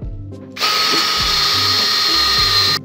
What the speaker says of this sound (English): Alright, let's drill.